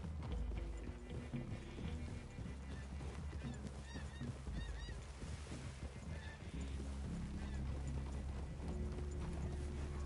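Steady clip-clop of horse hooves in the video game Red Dead Redemption 2 over a busy, dense background of music and ambient noise, with faint honking calls mixed in.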